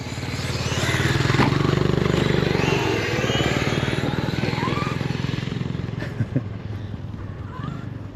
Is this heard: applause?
no